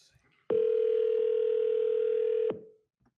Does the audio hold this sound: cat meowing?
no